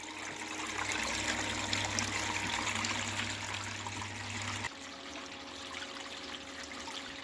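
River gravel is washed through a gold sluice by a steady, close rush of water that hisses continuously, then shifts abruptly partway through to a thinner flow with a faint hum.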